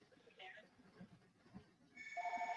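A telephone starts ringing with a bright electronic tone near the end, faint at first behind low room noise and murmuring voices.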